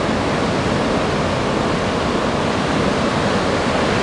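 Ocean surf rolls in at Anglet beach, a loud, continuous broadband wash of breaking waves with steady roaring texture and some wind across the microphone, no voices.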